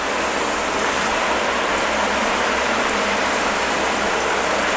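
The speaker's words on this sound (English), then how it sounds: "So I'm gonna start off by rinsing." Water sprays steadily across a ceramic-coated car panel during rinsing, a loud, continuous broadband hiss with no pauses and no talk.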